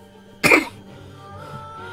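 A single sharp, loud cough from a sick man, close to the microphone, followed by quiet room tone.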